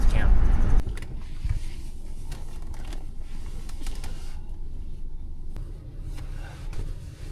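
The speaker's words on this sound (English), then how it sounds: "right now I'm driving to the border outline of Yosemite National" A Tesla electric car driving toward the edge of Yosemite National Park in 102-degree heat, giving a steady low road rumble and cabin hum that runs throughout, with a louder burst at the start.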